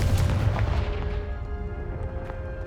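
Confringo blast spell explosion in Hogwarts Legacy, a heavy booming burst near the start that rumbles and slowly fades with a ringing tail, no talking.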